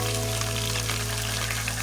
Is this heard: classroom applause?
no